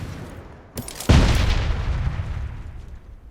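A grenade-like explosion bursts right beside the player in the shooter game PUBG Mobile, a sharp pop followed by a loud, close boom that rumbles and fades over the next couple of seconds, with no speech.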